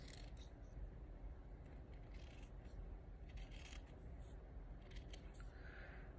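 Scissors trimming closely around an alcohol ink jewelry cabochon, giving a run of soft, quick snips and scrapes heard up close against a steady low background hum.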